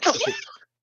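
A single short sneeze, close and fairly loud, bursting out and cutting off abruptly after about half a second.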